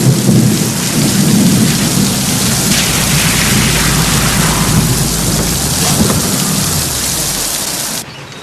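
Steady heavy rain pours down while deep thunder rumbles and rolls through, loud and continuous, ending abruptly.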